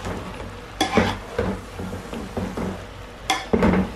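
Potatoes fry in spices for aloo methi, sizzling under repeated stirring, with a spatula scraping and knocking against the pan in uneven bursts close by, and no talk.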